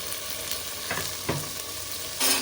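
Tomato frying in a pan while being stirred, cooking for boti gojju: steady close sizzle with a few scraping stirs of the spoon and a brief louder hiss near the end, no talking.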